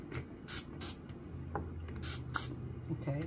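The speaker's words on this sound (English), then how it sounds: "we're going to take some olive oil and we're going to spray it with the olive oil" Olive oil is spritzed from a spray bottle onto corn tortillas cut into quarters for chips: several short, soft hissing bursts at an irregular pace, heard close in a quiet kitchen.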